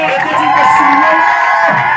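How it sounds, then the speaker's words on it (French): A church congregation cheers and shouts for joy, a loud continuous roar of many voices with whoops and high cries blending together at close range. "On peut pousser des cris de joie."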